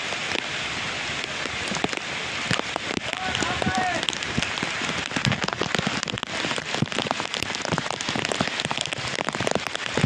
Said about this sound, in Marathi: तर हा खूप जोराचा पाऊस या ठिकाणी चालू आहे.